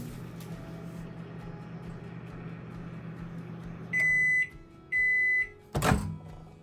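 A microwave oven cooking ridge gourd and potato runs with a steady low hum, then falls quiet as two long electronic beeps sound, followed by a sharp click nearby.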